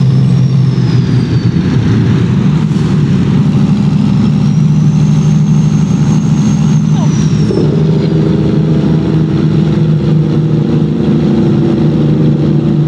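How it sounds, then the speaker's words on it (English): A heavy truck engine in American Truck Simulator, driving a Werner Enterprises haul in Oregon, drones steadily and loud at a low pitch throughout, with its tone shifting slightly partway through as the load changes. "I can actually hear the sound of my truck."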